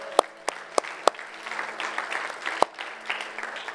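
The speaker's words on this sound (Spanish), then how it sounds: "Un aplauso a nuestro Señor." In a church, a congregation gives brief applause. A few sharp, close claps cut through the softer, steady clapping of the crowd.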